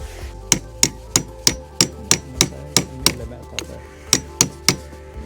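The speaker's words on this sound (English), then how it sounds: "now we need to use this C-spanner to align the holes" A C-spanner working on the cap of a Gori folding propeller, sharp metallic taps in an even rhythm of about a dozen close, loud strikes, each with a short ringing tail, over a low background hum.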